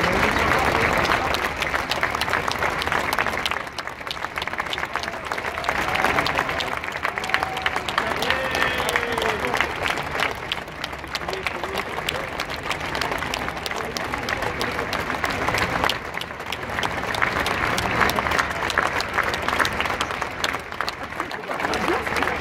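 Sustained crowd applause honoring Paris firefighters of the fire brigade at an official ceremony, a dense steady clapping that continues throughout without pause.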